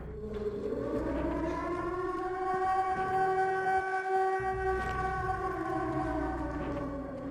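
A loud siren in the video game Silent Hill 2 wails with a long, sustained rising and falling tone, droning steadily throughout.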